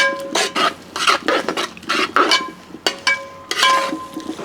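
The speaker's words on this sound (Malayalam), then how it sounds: "ഇനി ഒന്ന് ഇളക്കി കൊടുക്കാം." Chicken curry with tomato and Kashmiri chilli paste being stirred in a large pot, a utensil scraping and clanking against the metal in repeated close strokes with brief pauses, no talking.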